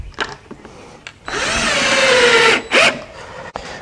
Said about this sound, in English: put in some screws to keep it from moving